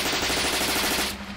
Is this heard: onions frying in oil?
no